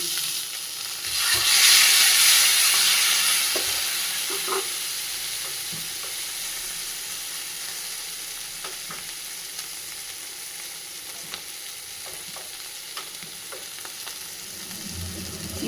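Food crackles and hisses in hot oil, loudest early on and then settling into a steady sizzle with occasional scrapes.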